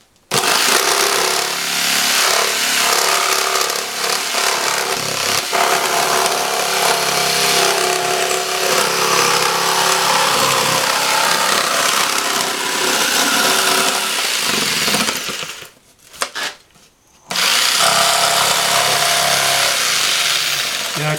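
A saw blade cuts steadily through wood to free a model piece, a loud continuous buzzing drone that briefly drops out near the end before resuming.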